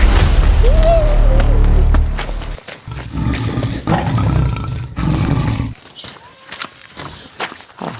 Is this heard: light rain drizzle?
no